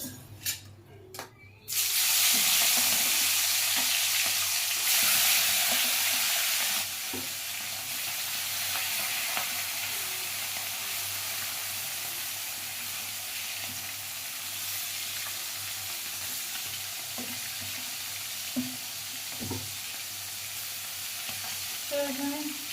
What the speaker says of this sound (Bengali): তো এখানে মাছগুলো ভাজা হতে থাকুক